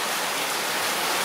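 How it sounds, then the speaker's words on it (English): Heavy rain pours down in Negril, Jamaica, a dense continuous hiss of drops drumming on surfaces, loud and close with no voices. "oh my god, it's raining. This is what Jamaica rain looks like."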